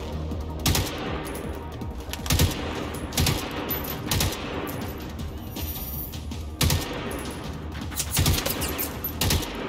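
Rapid automatic gunfire from a video game gun, sharp bursts of shots repeating throughout at steady loudness, with no talk over them.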